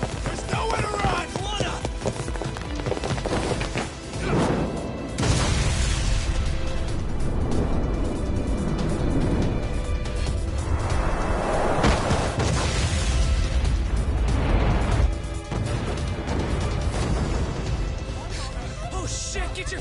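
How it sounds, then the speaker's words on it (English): A ship blowing up in the video game Lost Judgment: loud booming, rumbling bursts that swell and fade in waves over a noisy game soundtrack, with voices speaking over parts of it. "This ship just exploded!"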